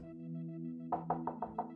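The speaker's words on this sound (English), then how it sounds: "Knock, knock. Thud, thud." Five quick, close knocks in the video game Data Breach land in an uneven rhythm after a steady electronic hum that carries on underneath, with no voices.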